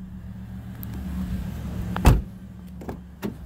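Power windows on a 2016 Toyota Corolla, a low motor whir running along with a sharp thunk as the glass seats, then a couple of softer clicks, close and alone.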